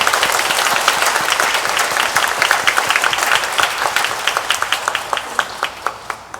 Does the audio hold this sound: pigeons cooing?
no